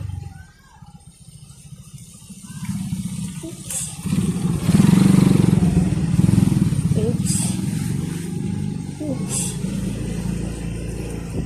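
Motorcycles riding along a road in Quezon Province, a steady engine drone that swells and surges mid-ride with some revving, heard close with voices talking over it.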